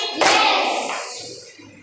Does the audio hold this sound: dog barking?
no